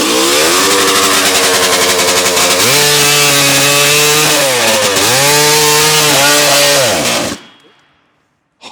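A Honda CR500 two-stroke motorcycle engine fitted to a chainsaw, screaming loud and close at steady high revs while cutting wood, dipping in pitch as the cut loads it, then cutting off abruptly into near silence.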